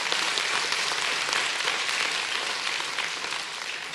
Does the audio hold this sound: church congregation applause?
yes